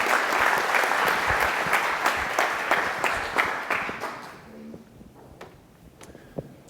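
Audience at a supply chain summit applauds to welcome a featured speaker, a loud dense burst of clapping that tapers off over several seconds, leaving a few scattered claps and footsteps at the end.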